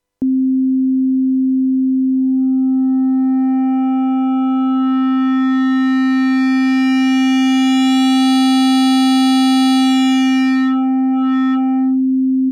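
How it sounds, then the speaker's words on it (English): A pure sine tone from a Yamaha Montage M synthesizer's AN-X engine, passed through its shaper, holds steady at one pitch while a bright stack of buzzy overtones builds up and then thins out again. It plays alone, loud and sustained. "it's adding dents and bits into the rounded curve of the sine wave, and thus introducing a lot of overtones"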